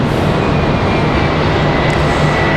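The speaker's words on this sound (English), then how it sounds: "WestJet 1282 going to touch down here in a minute" A WestJet Boeing 737-800 airliner comes in to land at Raleigh Durham International, its engines a steady, loud broadband roar with a faint high whine held throughout.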